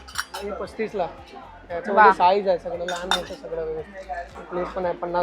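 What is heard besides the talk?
steel bowls clinking while being handled in a shop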